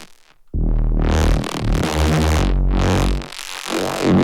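Synthesizer played through an Elektron Analog Heat with its delay effect on, loud sustained tonal notes with shifting pitches and echoing tails after a short quiet start.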